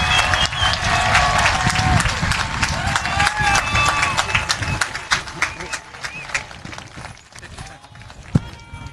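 At a hoop dance championship, the crowd claps in scattered, uneven bursts, fading toward the end, mixed with footsteps and movement and people talking nearby.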